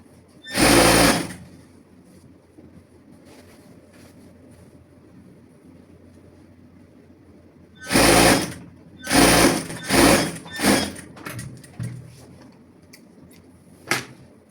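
Sewing machine stitching an elastic casing on Christmas pyjamas, with one burst of stitching near the start and a run of short bursts later, each stopping and restarting, over quiet room tone.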